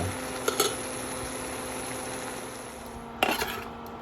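Ground hamburger meat browning in a pan, a steady soft sizzle with two brief scraping clatters as the meat is stirred and pressed down.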